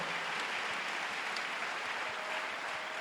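A church congregation claps for the Lord with steady, dense applause that carries on at an even level throughout, and nobody speaks.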